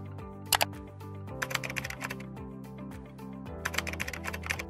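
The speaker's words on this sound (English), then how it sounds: "With the search bar, you may easily find the data you need by typing it in." Typing into a search bar on a computer keyboard, rapid bursts of light clicking keystrokes in clusters with short pauses, heard close over a soft background music bed.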